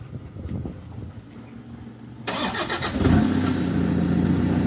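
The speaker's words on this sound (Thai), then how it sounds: "สตาร์ทด้วยรีโมทแต่ใช้รีโมทเดิมนะครับ" A 2008 Toyota Vigo pickup starting by remote: after a quiet wait the starter cranks abruptly, the engine catches and settles into a steady close idle that grows a little louder, without talking.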